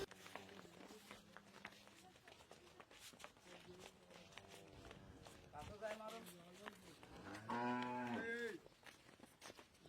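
Holstein Friesian dairy cows on a farm low and moo several times, the clearest and loudest call near the end, all under steady nearby talking with some footsteps.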